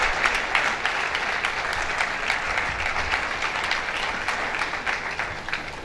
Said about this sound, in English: Please, let's give a round of applause to our chairman as he's walking.